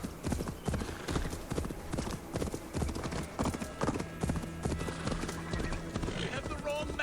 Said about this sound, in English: So let's grab our horse